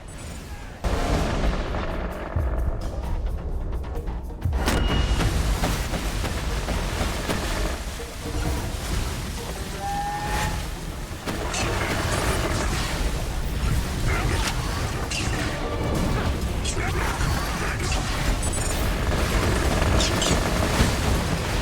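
Missiles explode in the Borderlands 2 video game in a dense, continuous roar of blasts and booms, loud and unbroken for over twenty seconds, with no clear pauses between impacts.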